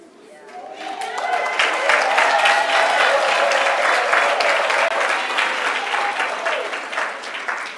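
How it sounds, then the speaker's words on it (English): A ceremony crowd at a University of South Africa spring graduation applauds doctoral graduates. The clapping swells quickly to a loud, sustained roar, and a voice speaks briefly near the start and faintly beneath it. "Let us give them a round of applause."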